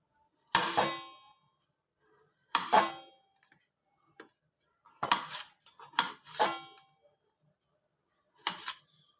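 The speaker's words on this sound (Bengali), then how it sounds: "ওলকপিগুলো একটু ছোট্ট ছোট্ট টুকরো করে করে কেটে নেব" A knife cuts boiled, slightly cooled kohlrabi into small pieces, making several sharp, separate chopping knocks close up with quiet pauses between them.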